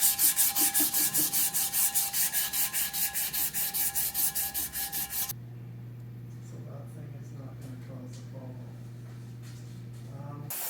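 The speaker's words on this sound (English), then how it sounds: "I'm gonna start sanding for the next few hours" Rhythmic back-and-forth sanding of a 1952 Jaguar XK120 engine part, about twenty even rubbing strokes, then the scraping stops and someone talks over a steady low hum.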